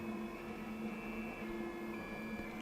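An upgraded rotary printer converted from a 3D printer runs with a steady mechanical hum and faint whirring tones, quiet and continuous, with no talk.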